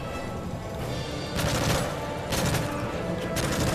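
Gunfire in the shooter Call of Duty Modern Warfare 3, with bursts of rapid shots rising over a steady noisy battle backdrop in three clusters.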